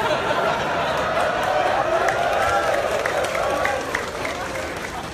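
A crowd at an Islamic religious talk in Kimhae, South Korea claps together in a sustained, even patter of many hands, fairly distant, with murmured chatter and light laughter mixed in before it tapers off.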